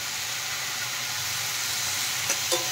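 Curry with chili powder added frying in a pan makes a soft, steady hiss and sizzle, closing with two brief stirring scrapes.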